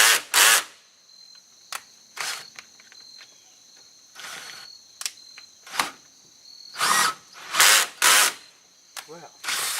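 Power drill whirring in short, loud bursts with pauses between, over a thin steady high whine.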